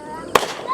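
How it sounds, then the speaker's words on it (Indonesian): Fireworks set off by residents on New Year's Eve at Puncak Steling in Samarinda crack once sharply in the distance, a single burst over a busy outdoor background with voices nearby. "ada beberapa warga sudah menyalakan kembang api"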